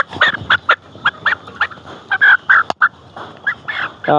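Poultry on a layer hen farm make loud, rapid clucks and gobble-like calls in quick irregular bursts, close to the microphone and with no speech.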